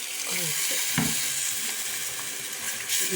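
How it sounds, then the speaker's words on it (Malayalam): Boiled and cooled water poured into a sizzling fish curry: a steady hiss and crackle of frying with a few splashing pops, close and fairly loud. "തിളപ്പിച്ചാറിയ വെള്ളമാണ് ഞാൻ മീൻ കറിക്കകത്ത് ഒഴിക്കുന്നത്"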